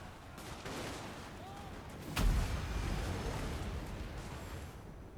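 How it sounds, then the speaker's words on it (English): Handgunners volley at zombies in a Total War Warhammer battle, with a crackling spread of musket shots and one sharp loud report amid dense battlefield din, faint-to-moderate and continuous. "The handgunners are firing on zombies."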